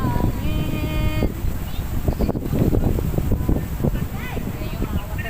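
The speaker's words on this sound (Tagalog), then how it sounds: "Ang lakas ng hangin." Steady strong wind roaring and buffeting nearby outdoors in Singapore, with broadband rumble throughout and people talking faintly underneath.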